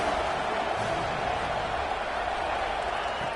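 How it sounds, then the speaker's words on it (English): A football stadium crowd at a Georgia vs Oregon game roaring on a third down, a dense, steady wall of cheering and noise filling the whole moment without letting up. "3rd down and the crowd really getting into it."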